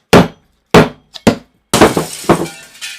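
A rusty hatchet head is struck with sharp hard taps, three separate ringing knocks followed by a denser cluster of impacts and rattling, close and loud with quick decays.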